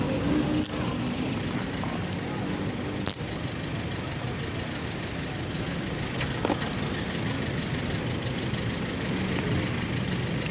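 A motorcycle engine idles continuously, a steady close rumble with faint ticks and occasional small knocks, running alone without speech throughout.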